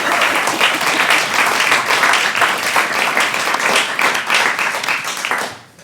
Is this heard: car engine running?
no